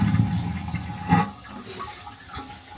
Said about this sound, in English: Cruise ship toilet sound.